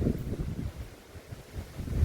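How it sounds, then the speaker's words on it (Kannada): Strong wind blows among coconut trees, rumbling low and buffeting the microphone in uneven gusts that rise and fall. "ಗಾಳಿ ನೋಡಿ ತೆಂಗಿನ ಮರವೇ ಹಾರಿ ಹೋಗುವ ಹಾಗೆ ಗಾಳಿ ಬರ್ತಾ ಉಂಟು"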